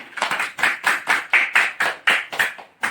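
A classroom group claps in a rhythmic pattern of about a dozen sharp, evenly spaced beats, close and fairly loud, with almost no talking over it.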